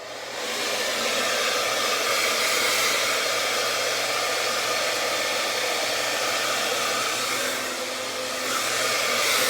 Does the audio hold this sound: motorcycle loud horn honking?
no